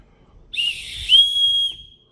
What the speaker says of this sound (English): It looks like the case for the handle too is actually a whistle. How loud is it?